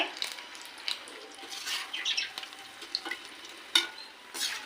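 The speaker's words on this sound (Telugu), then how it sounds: "ఇలా వేసుకుంటే మిరపకాయ చక్కగా ఫ్రై అయింది అనమాట" Stuffed chilli bajji sizzles in hot oil, a soft steady frying crackle with occasional pops and light stirring, close and fairly quiet.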